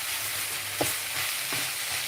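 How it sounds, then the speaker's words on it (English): Food simmers and sizzles softly in a pan, a quiet continuous hiss with a couple of faint clinks or stirs. "So just leave that simmer there for a moment."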